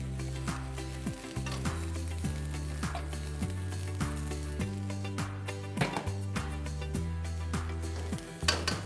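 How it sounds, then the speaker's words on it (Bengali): Nearly cooked boiled rice sizzles as it fries with spicy vegetables in a pan, with occasional clinks of a utensil and melodic music playing underneath. "আর যখনই এই সাউন্ডটা পাবেন দ্যাট মিনস ফ্রাইড রাইসটা ফ্রাই হচ্ছে।"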